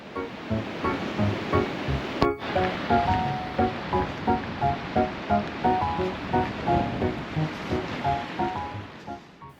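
Sea waves wash steadily onto the rocky shore beside Furofushi Onsen's seaside open-air hot spring in Aomori, a continuous broad surf roar that swells and recedes in a regular rhythm, with no voices.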